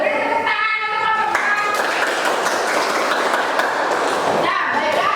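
A class of students applauds a group after its presentation during a school lesson; a voice speaks at the start, then dense, steady clapping fills the room before fading as speech resumes at the end.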